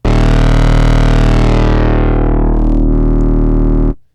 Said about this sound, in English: let's use an LFO to modulate this wavetable position and adjust the rate down